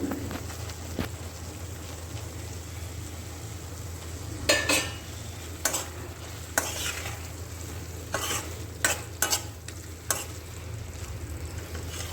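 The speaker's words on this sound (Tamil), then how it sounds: "வெண்டைக்காவை சேர்த்து நல்லா மிக்ஸ் பண்ணி விட்டு ஒரு ஃபைவ் மினிட்ஸ் வரைக்கும் சிம்லேயே வச்சு வேக வைக்கலாம்" Fried okra is stirred into a tamarind curry in a pan, and a spoon knocks sharply against the pan several times at irregular intervals. A soft simmer and sizzle runs underneath, with no talk.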